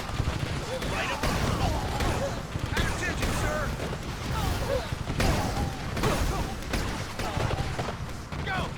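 A Cyclops heavy tank's railgun fires in a war video game, with several sharp blasts spaced a second or two apart. The shots sit beneath someone speaking throughout.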